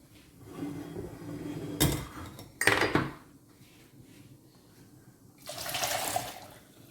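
Spinach-cooking water poured into a pot of fresh water in a home kitchen. Two bursts of splashing and pouring stand out over a low background rumble, one short and one longer near the end.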